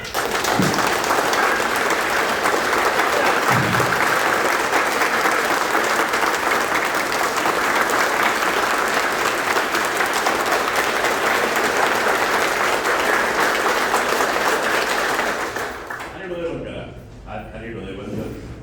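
An audience at an anniversary lecture clapping loudly together, a dense sustained roar of applause for about fifteen seconds that then fades, followed by a few scattered claps and a voice.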